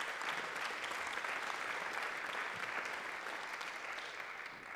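Audience at a talk on public money and public goods breaks into steady, even applause, a dense wash of clapping from a fairly large crowd that holds level throughout and stays somewhat distant and soft.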